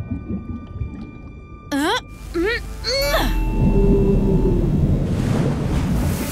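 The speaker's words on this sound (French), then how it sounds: "J'ai fait peur à une baleine grise et elle t'a soufflé par son évent!" A gray whale in a cartoon blows air and water out through its blowhole, heard as a loud, sustained roaring whoosh of spray that follows a few short vocal exclamations and lasts to the end.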